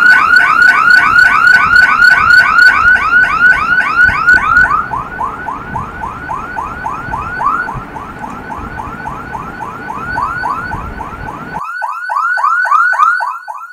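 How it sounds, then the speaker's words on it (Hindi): A loud Hikvision DVR video loss alarm warbles in rapid repeating sweeps, continuous and close, shifting pattern partway through before returning to the same cycling tone. "तो ये अलार्म बजने लग पड़ा है"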